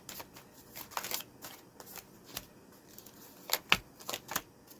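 Moonology oracle card deck being shuffled close by, quick papery riffles and flicks in uneven bursts, alone without talk.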